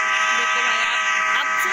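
A toy train horn gives a steady, buzzy electronic honk that holds for a couple of seconds, loud and close.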